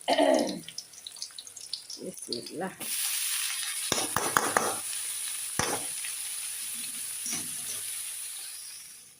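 Vegetables frying in a pan, a loud steady sizzle that starts partway through and holds to the end, with scattered clatter before it and a few sharp clinks during.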